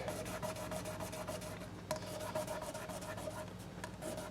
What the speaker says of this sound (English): Some 1200 grit, maybe 1000 grit sandpaper, and we just sort of lightly hit these frets like this